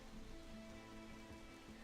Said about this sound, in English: the rain in these games like Black Flag and this one just looks fantastic